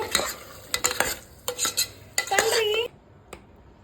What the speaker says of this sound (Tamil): இப்போ மிக்ஸ் பண்ணுறோம்.